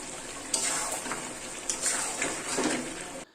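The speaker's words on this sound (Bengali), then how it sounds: "এরপর এতে আমি অল্প একটু জল দিয়ে ঢাকা দিয়ে দিয়েছিলাম।" Water poured into chicken cooking in a pan brings a steady hiss and sizzle with splashing bubbles, close and fairly loud, stopping abruptly at the end.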